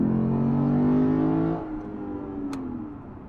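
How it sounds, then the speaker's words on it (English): A Lexus RC F Fuji Edition revs its engine, giving a loud, deep exhaust note that holds steady and then drops away as the revs fall, with no talking over it. "The exhaust note comes on at about 3000 RPM."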